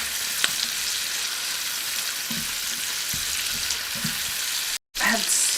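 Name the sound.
sauteing tofu, seabass and vegetables in a pot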